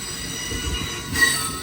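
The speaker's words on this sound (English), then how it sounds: "Alright folks, there go that train." An Amtrak Coast Starlight passenger train rolls by on the Coast Subdivision in Oakland, its wheels letting out a thin, sustained metallic squeal over a low rumble, heard briefly at moderate distance.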